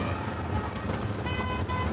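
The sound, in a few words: car horn honking on the street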